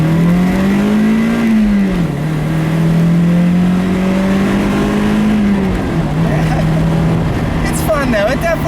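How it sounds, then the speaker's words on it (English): A 2000 Toyota MR2 Spyder accelerates from a standstill, its engine drone climbing steadily through the gears with shifts between rising pulls, heard from inside the car with a voice talking over it. "And we'll do another acceleration from a standstill here."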